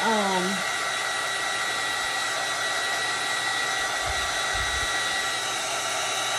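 A small hair dryer blows continuously at close range with a steady, loud hiss and whine, drying acrylic paint, with no break in the airflow.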